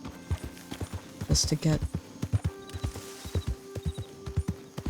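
Horse hooves clip-clop in a steady walking rhythm in the game Red Dead Redemption 2, with a brief snort or whinny early on, all under someone talking.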